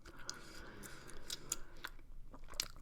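Gum chewing close to the mic, soft wet clicks and smacks at irregular intervals, faint and intimate with no talking.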